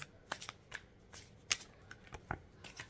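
Close, quiet riffling of a tarot deck being shuffled, with irregular crisp slaps and flutters spread across a few seconds and a few sharper snaps in between.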